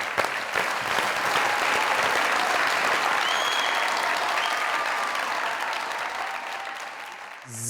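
Studio audience applause breaks out on a comedy talk show, a loud, dense wash of clapping that runs steady for several seconds before easing slightly at the end.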